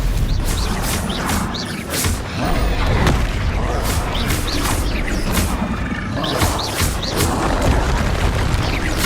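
Bombarda blasting spells in Hogwarts Legacy, with repeated booming explosions and crashing impacts at a fast, irregular rhythm, loud and close over continuous combat noise.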